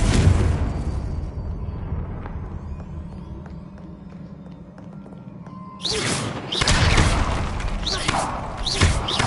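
Confringo blasting spell explosions in the video game Hogwarts Legacy: dull thumps and booms, a quieter rumbling stretch in the middle, then a burst of louder crackling blasts near the end.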